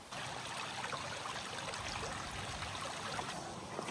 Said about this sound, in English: How do you do all that with a running creek year-round?